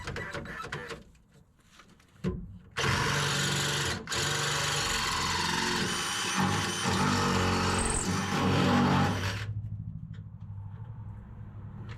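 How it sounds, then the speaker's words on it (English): A DeWalt cordless drill runs at high speed in a long continuous whirring burst after a brief start, close and loud, working on a trailer hitch install on a 1985 Ford F-150. "It is a little hard on your cordless drills, just so you know."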